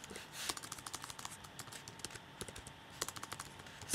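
Password being typed on a computer keyboard, a quiet run of quick close key clicks in uneven bursts with a few short pauses and louder taps, no talking.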